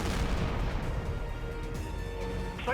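Explosions and heavy gunfire in the jet combat video game Tom Clancy's HAWX 2, a dense, continuous roar of booming blasts and rumbling impacts with no talk, loud and layered throughout.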